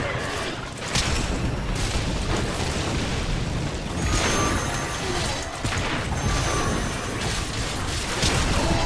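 A grenade explodes in the game OMD!2, among dense crashing and mechanical clatter, with several loud booming bursts over a steady, noisy din.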